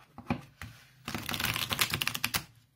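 Tarot cards riffle and flick in short bursts: a few separate snaps, then a fast rustling cascade of a new deck being shuffled, close and fairly quiet.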